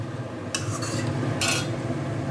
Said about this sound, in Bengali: এটা দেওয়ার পর একটু নাড়বো।